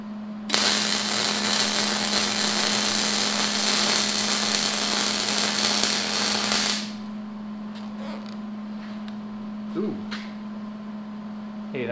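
Stick welding on a homemade tractor counterweight for a Kubota B2601, with 3/16 rod run at 50: a steady loud crackling hiss lasts about six seconds and then cuts off, leaving a low hum and a few faint clanks.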